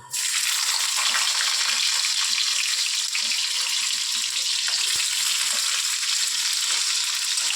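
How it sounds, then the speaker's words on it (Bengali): Capsicum frying in a pan, a loud continuous hiss and sizzle of hot oil that starts abruptly and holds steady throughout, close up and uninterrupted by talk. "এবার আমি কি করব ক্যাপসিকামগুলোকে ভাজা করে দেব"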